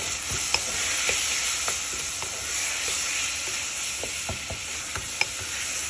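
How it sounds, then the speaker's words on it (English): Chopped onions with salt and black pepper sizzle in a pot for mung bean soup, a constant frying hiss punctuated by sharp, irregular spoon taps and scrapes against the pot. "now we're gonna add salt, black pepper, and onions, chopped onions."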